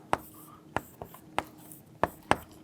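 Handwriting in a quiet room, a few sharp, separate pen strokes and taps spaced irregularly, close and fairly faint.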